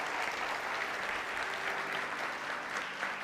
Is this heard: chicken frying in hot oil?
no